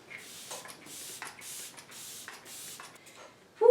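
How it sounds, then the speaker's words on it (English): An Olay setting spray mists onto a face in about five short, soft hissing bursts at an even pace, close and fairly quiet, followed by a brief louder sound at the end. "I'm going to use the Olay spray first"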